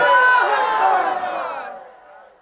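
A large crowd at a Bengali religious sermon shouts takbir together in one loud, unified call that swells and then fades out over about two seconds.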